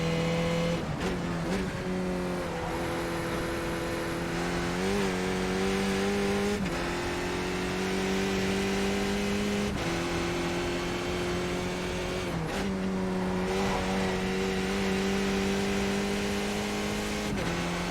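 A McLaren race car engine in iRacing drones loud and steady, its pitch rising through the gears with sharp drops at each shift, running alone and continuous the whole time.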